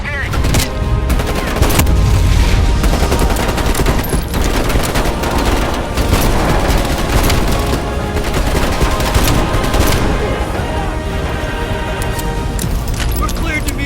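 Sustained gunfire from a helicopter in Call of Duty: Black Ops Cold War, dense rattling bursts under the steady rumble of the aircraft, with people talking over the shooting.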